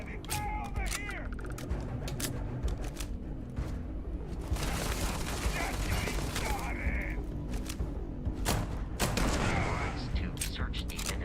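Gunfire in Starfield video game combat, with rapid bursts and sharp shots over a constant rumbling game soundscape, mixed with low voices and mechanical clanks.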